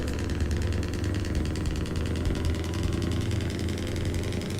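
A heavy truck engine idles in Euro Truck Simulator, a loud, steady low rumble with a fast, even throb that carries on unbroken, with no speech.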